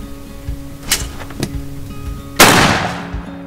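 A CZ Drake G2 shotgun fires at a clay target outdoors with one loud, sharp blast that rings out and decays slowly, preceded by a few faint clicks and handling knocks.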